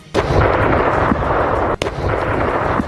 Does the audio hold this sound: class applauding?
no